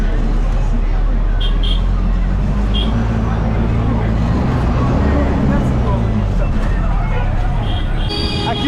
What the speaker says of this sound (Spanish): Normalmente este bus nos lleva cerca de nuestro hotel.